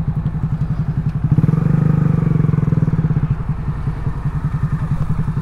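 A Honda Grom motorcycle rides along with a close, loud, rapid chugging engine pulse that swells briefly mid-ride and keeps a steady rhythm throughout.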